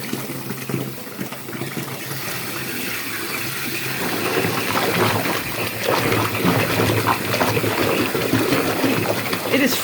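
Tap water gushes steadily into a bathtub being filled for a Lush Ruby Red Slippers bubble bar, a constant close rushing wash that swells slightly louder partway through.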